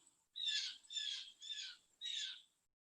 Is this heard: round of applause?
no